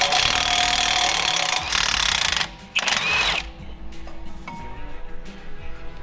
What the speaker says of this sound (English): Now I gotta get the socket to pull the caliper bracket off.